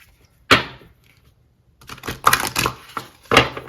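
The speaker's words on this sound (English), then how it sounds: "Giving those an extra shuffle." Tarot cards being shuffled by hand, a quick riffle burst near the start, a pause, then a run of papery flicks and slaps close to the microphone with no talking.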